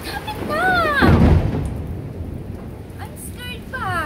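A heavy thunderstorm at the coast in San Juan, La Union: a thunder crack and rumble over steady rain noise, with people talking nearby.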